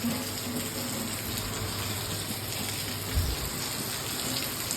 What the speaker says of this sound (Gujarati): વરસાદ જો આટલો ધીમો આવે તો અહીંથી એટલો ધોધ આવે